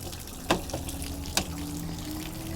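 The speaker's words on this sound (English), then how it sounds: "when the water is all done coming out of the bottom of the door" Water drains and splashes out of a camper's water heater while the RV is being winterized, a steady trickling wash broken by two sharp splattering knocks.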